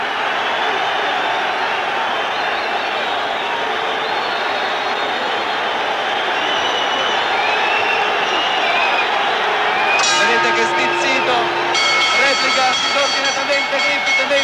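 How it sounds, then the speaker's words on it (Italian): At a Nino Benvenuti versus Emile Griffith boxing bout, an arena crowd roars steadily while a commentator talks over it. Near the end a resonant ringing tone rises, the gong closing the fight. "in questo istante suona il gong che conclude il più bel combattimento di Nino Benvenuti"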